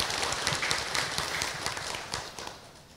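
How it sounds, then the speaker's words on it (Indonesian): A studio audience at an Indonesian Islamic talk show gives a short, soft round of applause, the scattered clapping fairly faint and fading slightly toward the end. "Yuk, boleh kita kasih tepuk tangan dulu buat Ibu Azria."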